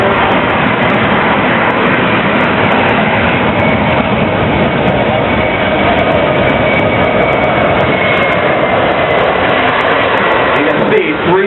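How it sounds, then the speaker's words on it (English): A Boeing C-17 Globemaster III military jet transport at maximum power during a go-around, giving a loud, steady, dense engine roar that holds unbroken for the whole stretch. "Now the aircraft is now performing a go-around maneuver using maximum power"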